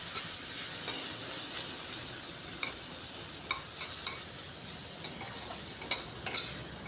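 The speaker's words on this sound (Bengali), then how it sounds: "একটু হালকাভাবে ভেজে নিচ্ছি। এইভাবে কিছুক্ষণ ভাজতে হবে" Ginger, garlic and onion fry lightly in a pan, giving a quiet, steady hiss with occasional soft scrapes and taps of the spatula.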